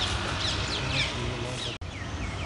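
Parrots chirp at Tansen's tomb in Gwalior, giving a few faint, scattered high tweets over a steady outdoor background hum.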